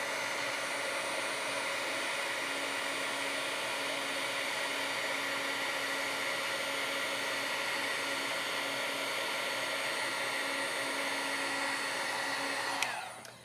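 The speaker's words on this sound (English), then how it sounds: "let me just heat set that with the Wagner tool" A Wagner heat tool blows continuously to heat-set embossing powder, a steady loud whirring hiss with a faint whine that holds unchanged for about thirteen seconds and then cuts off abruptly at the end.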